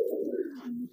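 A single pigeon coos close by, a soft low throaty call that drops in pitch.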